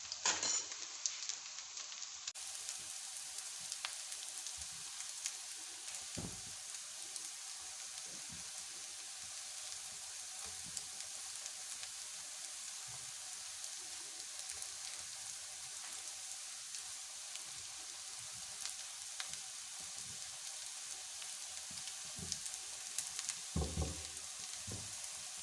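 An egg recipe fried in a pan on a stove, with a steady, even sizzle of hot oil that crackles continuously throughout, close and fairly quiet, with occasional small bumps and no voices.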